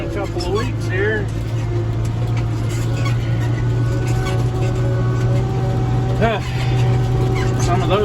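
A farm tractor's engine runs steadily through the whole stretch while it sprays a field, a loud constant drone with faint higher chirps over it and no talk.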